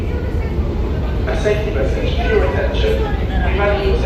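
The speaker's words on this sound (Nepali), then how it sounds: "ट्रेनमा एकदम फास्ट चल्ने रहेछ" Steady low rumble of a London Underground train running fast toward London Bridge, loud and continuous, with voices talking faintly over the carriage noise.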